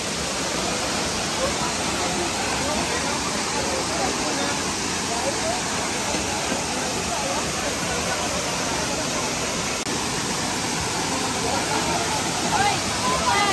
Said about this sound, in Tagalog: Ang tunog ng tubig mula sa waterfalls ay tunay na kaakit-akit at nakaka-relax.